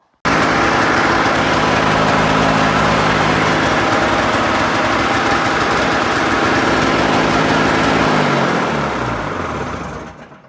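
A Polaris Indy snowmobile engine runs close by at a steady, loud, buzzing drone for several seconds, then winds down and cuts off near the end.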